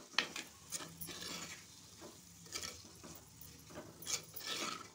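Mutton curry stirred with added salt, giving a faint, quiet scraping and clicking of a spoon in a pot, with a few louder scrapes over five seconds and no talking.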